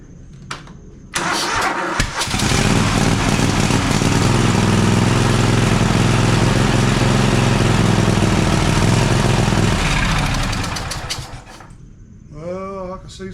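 Cub Cadet LT1050 lawn tractor engine, losing power and hard to pull, catches after a pull-start and runs loud and steady at close range for several seconds, then winds down and cuts out.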